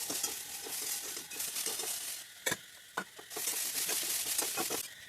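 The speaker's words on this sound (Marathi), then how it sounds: "डायरेक्ट स्वीटकॉर्न घालून परतून घ्यायचं आहे" Sweet corn with turmeric, red chilli powder, Maggi masala and salt is stir-fried in a pan, making a strong sizzle interrupted by repeated scraping stirs and a couple of sharp utensil knocks, with no talking.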